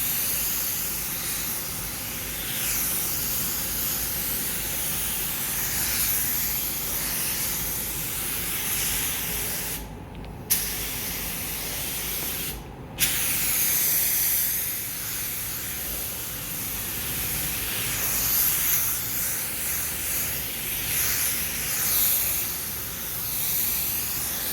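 Paint is sprayed onto a Subaru Impreza Type R brake caliper inside a paint booth, a continuous loud hissing spray broken by two brief pauses, with no talk.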